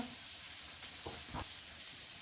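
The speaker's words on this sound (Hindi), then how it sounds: "तो थोड़ा सोते करने के बाद ग्रीन चिली, थोड़ा सा इनको सोते कर लेते हैं" Garlic cloves and a small piece of ginger sizzle steadily in a pan while being sautéed, a constant bright hiss with a couple of brief louder crackles as the pan is stirred.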